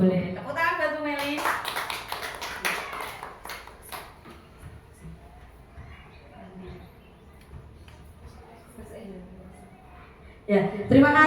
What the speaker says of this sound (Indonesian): Tepuk tangan buat Bu Meli.